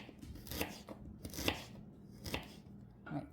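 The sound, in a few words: knife cutting ginger into thin strips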